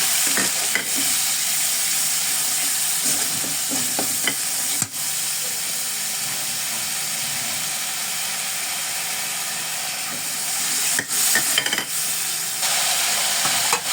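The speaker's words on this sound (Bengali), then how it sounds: "পেঁয়াজ বাটা, রসুন বাটা, মরিচ বাটা, ধনিয়া গুঁড়া, জিরা গুঁড়া, হলুদের গুঁড়া দিয়ে এবার মশলাগুলো কষায় নেব।" Ground onion, garlic and chilli pastes with coriander, cumin and turmeric powders frying in a pan, a loud continuous sizzle with occasional stirring scrapes and clinks, close by, with no talking.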